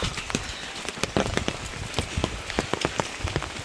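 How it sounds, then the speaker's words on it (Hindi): Heavy rain pours down on the way to an ancient Shiva temple at Chamdeval, a dense steady hiss with frequent sharp drips and splats close by, heard without speech. "और बारिश बहुत ही तेज़ आ चुकी है"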